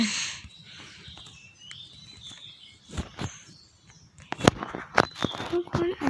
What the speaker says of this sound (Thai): จะได้ยินเสียงนกนะคะนกเยอะมากค่ะตอนนี้